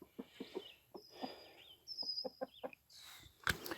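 A backyard chicken clucks close by in a run of short, irregular clucks, with a few higher chirps and squawks from other hens mixed in, fairly quiet overall.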